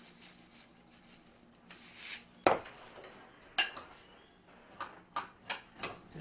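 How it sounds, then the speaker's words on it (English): Panko breadcrumbs, salt and other ingredients stirred together in a bowl, with a utensil clinking and scraping against the sides in a few sharp taps near the end and softer rustling before, close up with no talk. "Just mix that all up."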